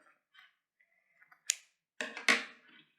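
Crochet yarn on a Christmas candy-cane decoration is cut with scissors: two sharp, close snips follow a few faint clicks in an otherwise quiet room, with no talking.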